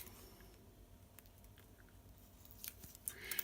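Quiet, close snipping of scissors through rubber stamp material, a few sharp cuts near the end over faint room noise.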